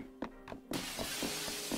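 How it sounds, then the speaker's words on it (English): Glass shattering in the video game The Sexy Brutale, a few sharp knocks and then a sudden loud crash that gives way to a spreading shower of breaking glass. "And that's the glass shattering."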